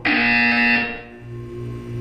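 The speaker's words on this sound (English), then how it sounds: "You will hear a buzzer." A loud, harsh electronic buzzer from the video game Portal 2 sounds for about a second, then cuts to a low lingering hum with a faint tonal tail, with no talk.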